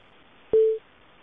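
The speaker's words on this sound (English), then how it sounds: "Every time a new participant joins the conference, you will hear an entrance tone." Single short electronic beep from an Allworx business phone system marking a participant joining a conference call, a clean steady tone lasting about a quarter second over quiet line hiss.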